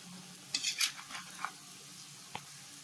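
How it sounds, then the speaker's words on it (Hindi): Taro leaf rolls (patode, an Uttarakhand dish) fry slowly in a pan over a low flame, giving a quiet, soft sizzle broken by a few brief stirring scrapes and taps. "इसको कम से कम 10 से 15 मिनट तक हमें ऐसे ही धीरे धीरे फ्राई करना है।"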